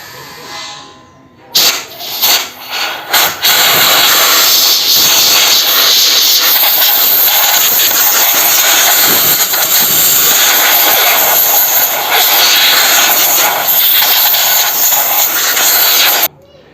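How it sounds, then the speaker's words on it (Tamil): Compressed air blown to clean a Pulsar motorcycle's digital meter: a few short bursts, then a loud, steady, close hiss that runs for over ten seconds before cutting off. "இப்போ ஏர் அடிச்சு க்ளீன் பண்ணிக்கலாம்"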